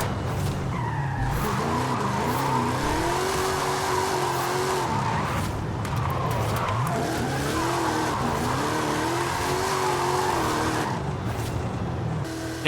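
A 2010 Ford Crown Victoria Police Interceptor in a driving game, its engine droning steadily with rising and falling revs while tires squeal and skid through sustained drifting.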